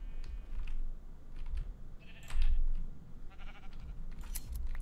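Sheep in Minecraft bleat in short, repeated calls over a busy game backdrop, mixed with clicky keyboard-like tapping. The sounds are moderately loud and come alone, with no speech.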